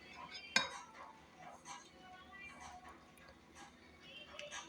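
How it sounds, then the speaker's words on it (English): A spoon stirs freshly cooked white rice in a pot, opening with one sharp clink and then soft, scraping, shuffling strokes that stay quiet and close, with no talking. "I'm gonna give this a nice quick little stir so we can see how nice and fluffy it cooked up"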